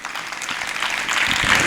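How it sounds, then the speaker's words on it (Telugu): A church congregation claps in a continuous burst of applause that grows slightly louder, dense and close. "మీరు చప్పట్లు కొడుతుంటే దోమలు కూడా చనిపోవు ఇక్కడ"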